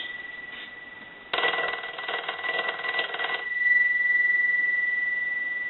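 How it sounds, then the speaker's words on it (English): The bell of an old Stromberg Carlson 2-1553 rotary telephone rings in a loud, buzzing burst for about two seconds, surrounded by a steady electronic tone. "So we'll go ahead and ring the unit."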